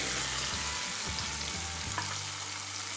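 Tomatoes soften in hot oil for a drumstick masala curry, a dense, steady frying hiss with a few low stirring scrapes near the start.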